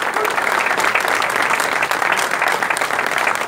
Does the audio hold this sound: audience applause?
yes